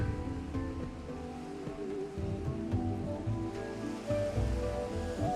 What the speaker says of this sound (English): listening to the waves crashing on the rocks